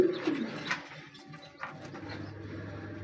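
Pigeons coo inside a dirty birdhouse cage in a few low, soft, rounded calls near the start, then quieter bird sounds over a faint steady background hum.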